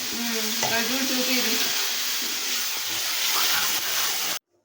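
Tomato chutney sizzles and hisses loudly in a hot pan, a dense continuous frying crackle close by with a faint voice briefly underneath, cutting off abruptly at the end.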